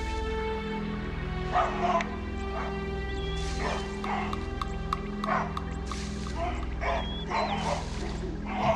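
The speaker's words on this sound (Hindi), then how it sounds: "बबूनों ने शोर मचाना शुरू कर दिया है।" Wild baboons in African lion country give repeated sharp barks and yelps in scattered bursts over a steady low background, some calls close and others farther off.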